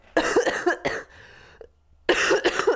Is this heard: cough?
yes